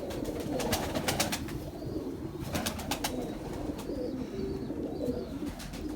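Pigeons belonging to a pigeon keeper coo repeatedly at close range, soft throaty calls over a busy rustling background, with sharp clicks and wing flutters between them.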